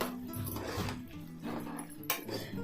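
A metal lid on a pot of Kolkata-style aloo chicken biryani is handled at close range, with soft scraping and knocking ending in one bright metallic clink.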